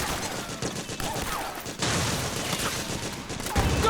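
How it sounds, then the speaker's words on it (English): Dense, continuous gunfire in the video game Metal Gear Solid 4, a sustained fusillade of rapid overlapping shots that stays loud throughout with a brief dip partway, with faint voices mixed in. "Suppressing fire!"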